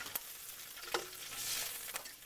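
Crushed garlic and ginger sauté in hot oil, a steady close sizzle broken by a few sharp clicks of a utensil stirring in the pan.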